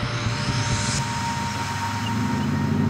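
Supermarine Spitfire engine droning steadily as the fighter takes off again, a loud continuous aircraft roar with no voices.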